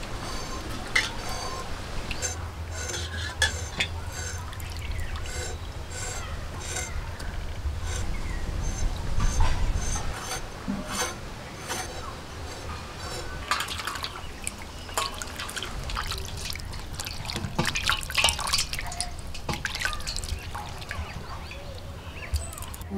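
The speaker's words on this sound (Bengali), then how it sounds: "মাছ বেছে নিয়েছি, এবার ভালো করে ধুয়ে নিচ্ছি।" Fish being rinsed under a running kitchen tap, with steady dripping and trickling water splashing close by for the whole stretch and no talk over it.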